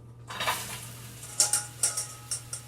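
A sharp hiss of cooking spray hitting a hot pan, followed by several quick bursts of sizzling crackle, close and fairly loud.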